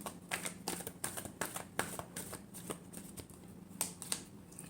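Tarot cards are shuffled close up in a rapid run of crisp, papery riffles and taps, each burst short and rhythmic, continuing steadily at a quiet level.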